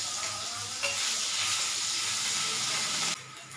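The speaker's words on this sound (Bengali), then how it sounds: "আদা কোড়াটা দিয়ে দেবো তেলের মধ্যে।" Grated ginger fries in hot oil for a lentil dal, giving a loud, dense, continuous sizzle up close that drops off sharply near the end, with no speech.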